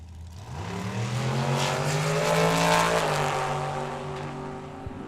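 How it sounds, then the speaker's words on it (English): Corvette doing a burnout on the right-hand lane at Tucson Dragway, a loud roaring engine that revs up and climbs in pitch, then holds and fades over a few seconds, heard trackside with no talking. "the Corvette doing a very nice burnout on the right-hand side"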